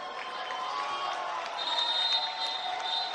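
A home crowd at a South China Athletic versus New Taipei Kings group-phase basketball game cheers and murmurs in a steady, dense roar, with scattered applause and whistles rising slightly midway, heard from within the arena.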